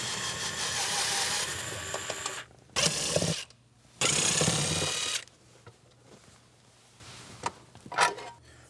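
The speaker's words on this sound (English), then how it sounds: "I'm using a 10mm socket to remove these 3 bolts holding it down" A ratchet with a 10mm socket removes the bolts holding the SRS airbag control module in a 2021–2025 Nissan Rogue. Close, dense bursts of clicking alternate with short pauses and a few single sharp clicks.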